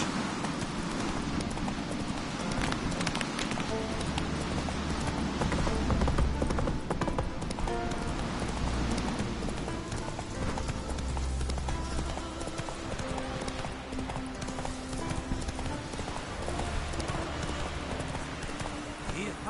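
Horse hooves clip-clop at a steady gait in The Witcher 3 video game, a continuous rhythmic thudding under a dense game soundscape with talk.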